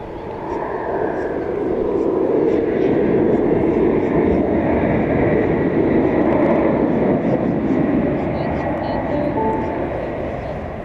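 An American Airlines jet taking off at night from a runway at Dallas/Fort Worth airport, a steady broad roar that swells and holds for several seconds, heard from a distance with faint talk underneath.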